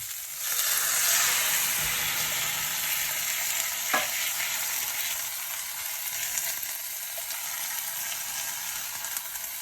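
A spiced lamb tagine curry stirred in a pan gives a continuous close sizzle and hiss, with one sharper scrape partway through.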